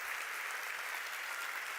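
A church congregation breaks into steady, full applause, a dense wash of clapping that holds evenly throughout with no voices above it.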